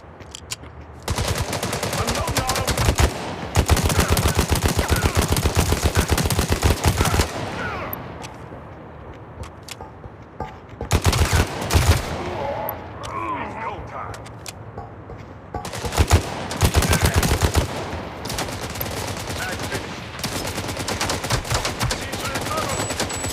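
Gunfire in the Gangstar Mirage City video game, with long bursts of rapid automatic fire and scattered single shots, loud and close, broken by short pauses and a voice talking now and then.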